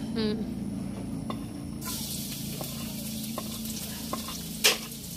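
Onion and garlic sautéing in a pan give a steady close sizzle with occasional stirring scrapes and one sharp clatter near the end, while a faint voice speaks underneath.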